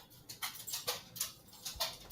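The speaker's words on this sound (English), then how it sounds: "Is that my dog going crazy?" A dog somewhere off in the room whimpers and pants in a rhythmic series of short, faint, breathy bursts, with no speech.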